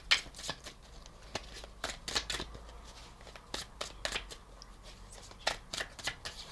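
A deck of cards is shuffled repeatedly, with crisp riffling bursts close by and brief pauses between shuffles.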